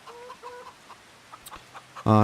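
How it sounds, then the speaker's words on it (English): Chickens in a coop in the video game Farming Simulator 25 give soft, scattered clucks close by, then a short, louder burst of clucking at the end. "I have purchased a little chicken coop and filled that up with well, 20 chickens at the minute"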